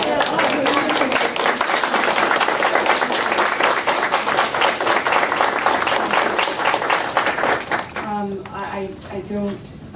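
Attendees at an Environmental Control Board meeting give a round of applause, dense close clapping for about eight seconds that thins out as a voice begins speaking near the end.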